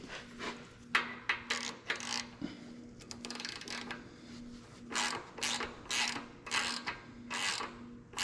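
A threaded rod is screwed down into a go-kart carburetor, giving a series of close, rhythmic ratcheting and rasping turns in short bursts with brief pauses between them, over a faint steady hum.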